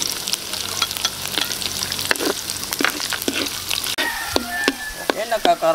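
Onions fry in a pan for a Filipino black bean sauce to serve with grilled tuna jaw. Steady sizzling runs throughout, broken by repeated scraping stirs and clanks of a utensil against the pan. Toward the end the stirring grows sharper and more frequent.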